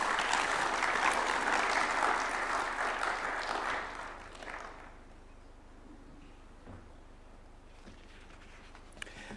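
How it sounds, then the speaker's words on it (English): Audience applause at a diplomatic briefing in State House, Nairobi, loud and steady for about four seconds, then fading into a quiet room with faint scattered claps. "Another round of applause for Zainab."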